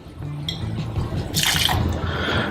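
White rum pours into a mojito glass over muddled lime, a close liquid splash and trickle lasting about a second before settling.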